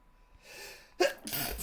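One close, sharp human sneeze bursts out after a brief indrawn breath, followed by a breathy exhale.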